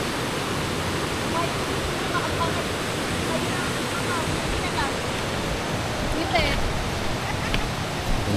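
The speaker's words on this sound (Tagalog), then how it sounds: "ipapakita ko muna sa inyo yung umaagos na tubig" Rushing water at Wawa Dam, a strong river current among big rocks, a loud, steady, unbroken roar filling the whole stretch, with a person speaking faintly under it.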